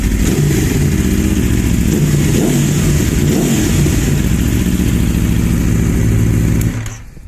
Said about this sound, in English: But listen to that exhaust, that's a stock exhaust.